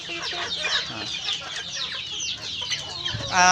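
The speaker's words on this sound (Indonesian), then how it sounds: "Ayamnya lepas tengok, nyantai pulang di sini." Free-roaming chickens cluck and chatter close by near a coop on a small farm, a dense, continuous flock of calls throughout, with a louder squawk at the end.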